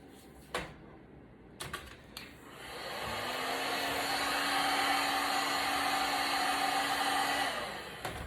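A heat gun or hair-dryer-style blower warming the back of an iPad 7, 8 or 9 to loosen battery glue, starting after a few clicks and handling knocks with a steady whooshing hum for about four seconds before cutting off.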